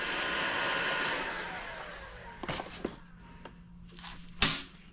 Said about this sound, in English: I'm going to hit it with a heat gun for a little while